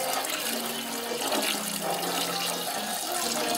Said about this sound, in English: Okay, we added the water, about a gallon.